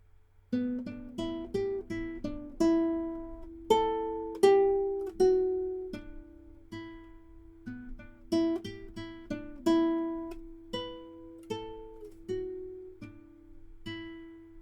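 The intro riff of a song on guitar, quick plucked notes ringing out alone, each note ringing briefly before the next, at a steady driving pace.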